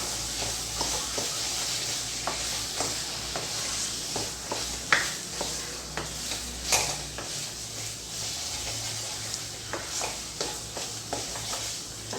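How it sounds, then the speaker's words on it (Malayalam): Grated coconut is mixed into a rice flour and banana snack cooking in ghee, with repeated spoon scrapes and taps against the pan over a steady, close sizzle. "തേങ്ങ നന്നായി ഒന്ന് മിക്സ് ചെയ്തെടുക്കാം."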